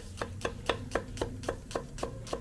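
A knife slices an onion into thin julienne strips on a cutting board, nine or so crisp, evenly spaced chops in a steady rhythm, close and clear with a faint background hum.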